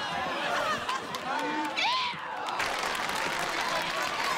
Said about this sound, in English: This is a strange thing to clap for, everybody.